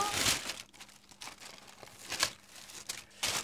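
Wrapping paper crinkles and tears in short rustling bursts as a parcel is opened, close by, with a few soft sounds of handling between them.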